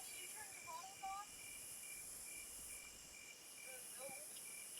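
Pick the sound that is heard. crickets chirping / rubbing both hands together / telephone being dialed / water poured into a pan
crickets chirping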